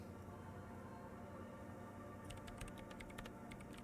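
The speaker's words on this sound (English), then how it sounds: "She's behind a keyboard now, typing in some numbers that only she understands." A character types numbers on a terminal keyboard in the video game Disco Elysium: quick, faint key clicks against a steady low background hum, starting partway in.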